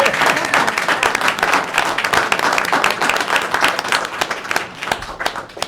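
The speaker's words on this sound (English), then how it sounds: "please give her a round of applause" A round of applause at a town select board meeting after a citation is presented, a room full of people clapping briskly and steadily, close and fairly loud, slowly thinning toward the end.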